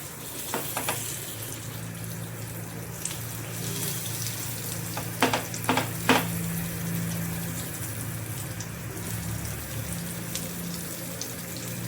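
Eggplant slices fry in hot oil in a pan, making a steady, moderate sizzle with a few brief clatters partway through.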